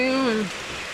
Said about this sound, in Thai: ตอนนี้ฝนตกอยู่